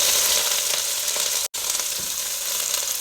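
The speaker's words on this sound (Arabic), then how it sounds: "وانزل عليه اللوبيا المقطعة المغسولة" Cut green beans with garlic sizzle loudly and steadily in a hot pan, a dense close frying hiss broken by a split-second gap.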